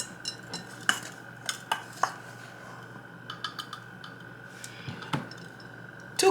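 Measuring cups of flour tipped into a mixing bowl for homemade lemon scones, with scattered light clinks and taps of cup against bowl over a steady low kitchen hum.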